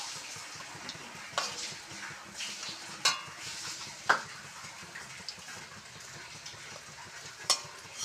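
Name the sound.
pumpkin flower fritters frying, lifted from the pan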